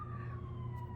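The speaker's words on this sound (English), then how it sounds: "Sorry for the sirens." Emergency vehicle siren passing along a city street outside a residence, a steady wailing tone heard faintly through walls over a low traffic rumble.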